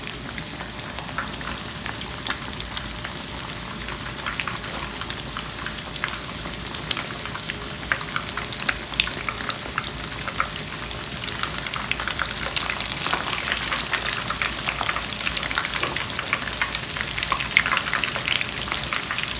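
Breaded pork cutlets deep-frying in a wide pan of hot oil for tonkatsu, a dense continuous sizzle and crackle heard up close and growing slightly louder toward the end.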